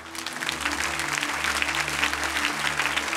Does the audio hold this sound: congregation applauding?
yes